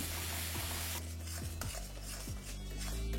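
Mustard paste being stirred into a pan for a vegetarian drumstick curry, with repeated scraping strokes of a spoon against the metal over a steady close sizzle.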